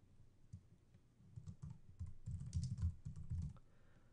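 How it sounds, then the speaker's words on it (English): Typing on a computer keyboard, quiet and close, with soft irregular key clicks that come in short bursts and grow busier toward the middle before stopping. "So I'm just typing something here."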